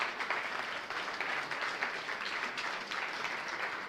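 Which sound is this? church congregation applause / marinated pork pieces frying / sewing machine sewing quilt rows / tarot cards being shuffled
church congregation applause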